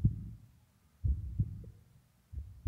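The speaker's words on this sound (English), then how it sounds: "Heartbeat slowing down." Slow heartbeat sound effect in a fangame trailer, deep muffled thumps in paired beats with growing gaps between them, alone and fairly quiet.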